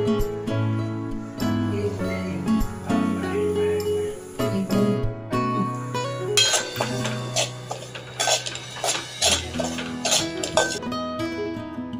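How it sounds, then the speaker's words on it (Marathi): Semolina being roasted in ghee in a pan, with steady spoon scraping and metal clinks against the pan throughout, close and fairly loud, under background music. "यात आपण रवा भाजून घेऊ"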